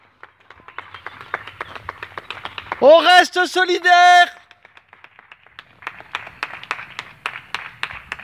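Neighbours clap from balconies at 8 pm in Eschau, a sustained patter of many hands at a moderate distance, with a few spoken words and a brief burst of sung or called voices in the middle.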